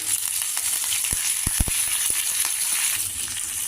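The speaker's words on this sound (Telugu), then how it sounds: "హాఫ్ స్పూన్ ఇంగువ పోపు వేగింది ఇందులో నాలుగు పచ్చిమిరపకాయలు ఇలా చీలికలు వేసుకున్నాం కొద్దిగా కరివేపాకు" Green chillies and curry leaves sizzle in hot tempering oil with mustard seeds and asafoetida, a steady close frying hiss throughout with a few sharp pops near the middle.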